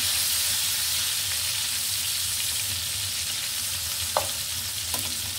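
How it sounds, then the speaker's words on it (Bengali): Fish frying in the oil released from its own flesh in a kadai, a steady close sizzle and crackle with a couple of faint clinks from stirring, no talk. "আমি কিন্তু তেল কিন্তু একটু দিইনি, মাছের তেল দিয়ে মাছ ভাজছি।"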